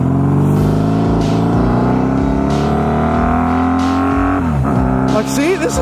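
Motorcycle with drag pipes accelerating at half throttle, a loud close engine drone rising steadily in pitch, with a brief dip near the end as it shifts.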